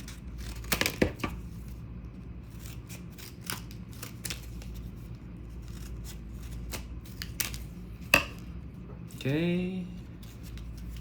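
Someone opens a package with scissors. Short cutting snips and crinkling of the wrapping come through close by, someone says a brief word, and a louder rip follows near the end.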